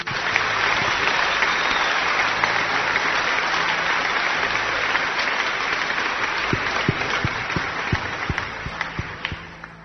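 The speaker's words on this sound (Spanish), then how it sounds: "démosle un aplauso a Jesús y a María fuerte" Sustained audience applause at a Catholic religious gathering, a dense wash of many hands clapping for the whole stretch, with a few sharper individual claps standing out near the end.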